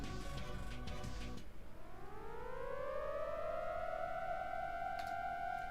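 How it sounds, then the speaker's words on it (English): A civil defense siren wails from somewhere below, its tone sweeping upward in a long rising glide and then holding a loud, steady howl with layered harmonics, alone and without any voices. "Suddenly, I heard a siren down below."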